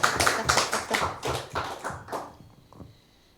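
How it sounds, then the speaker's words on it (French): A short burst of clapping from a few pairs of hands at a seminar, rhythmic and close, quickly dying away into quiet. "Donc merci de les applaudir très fort."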